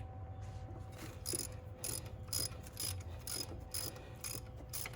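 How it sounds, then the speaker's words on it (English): A hand ratchet clicking in short bursts, about ten crisp ratcheting strokes close up, while loosening the tensioner pulley on an LQ1 DOHC V6 engine during a timing belt change, in a quiet garage. "I want to pull off this tensioner pulley"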